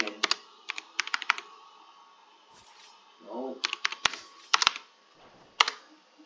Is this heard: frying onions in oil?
no